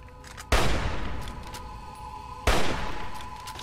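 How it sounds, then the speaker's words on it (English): Two loud gunshot bursts from the video game Fallout 3, each a sharp close blast with a ringing tail, about two seconds apart. "Stop shooting at me!"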